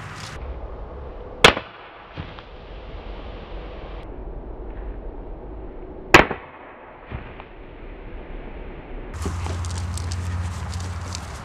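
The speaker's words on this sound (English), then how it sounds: "today we're going to be shooting a soda can with a BB gun" BB gun shots fired at a shaken-up soda can, two sharp loud cracks several seconds apart, each followed by a short rattle and a low rumbling hiss, ending in a sustained spraying gush.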